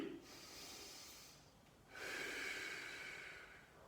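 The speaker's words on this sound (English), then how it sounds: "Breathe deep." Deep breathing during a morning spine workout: one slow inhale through the nose, then a longer, fuller exhale, close and quiet with no talk.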